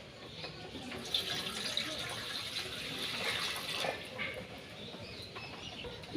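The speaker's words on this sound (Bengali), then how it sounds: "দিয়ে দেব জল" Water is poured into a cooking pot set on a lit stove, a steady close splashing and gushing with faint birdsong in the background.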